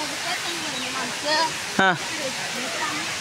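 A large waterfall roars as a steady, dense wash of falling water throughout, with a few brief spoken words and a short vocal sound rising over it midway.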